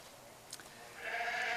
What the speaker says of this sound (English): other sheep in the trailer is blatting.